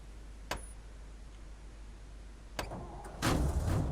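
A military truck in a milsim video game: a low, quiet idle hum with a couple of sharp clicks, then the engine rumbles up louder near the end.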